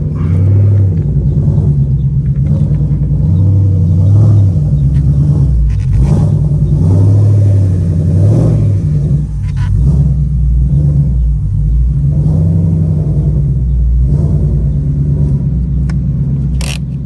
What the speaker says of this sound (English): I'm actually gonna back up the car a little bit so I don't hit my brother's car.